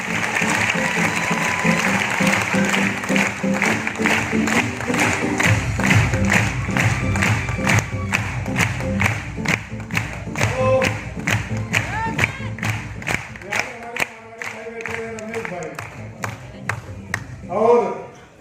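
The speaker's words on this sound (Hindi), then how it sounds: "अभी देखा सबने ताली बजा दिया।" A program audience in Navsari, Gujarat, bursting into applause, dense clapping and crowd noise that thins toward rhythmic, sparser claps near the end, with voices mixed in.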